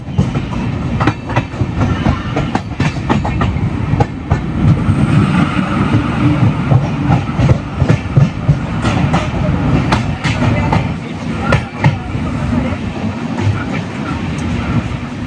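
Express train 12164 from Chennai Central to Mumbai LTT rolling along at speed, a loud, steady rumble broken by rhythmic wheel clacks over rail joints, heard from on board.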